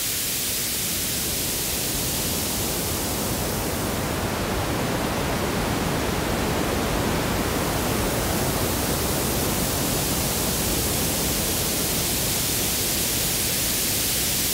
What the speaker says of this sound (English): this is like the coolest white noise machine thing ever.